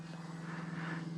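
A faint, steady engine drone of a plane passing overhead at a distance, a continuous low hum without voices, heard while flying a radio-controlled model.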